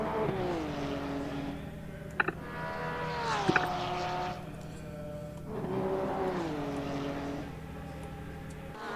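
A GT3 race car in a racing video game at the Nurburgring, engines revving through rising and falling gear changes as cars sweep past close by, with a couple of sharp clicks in between.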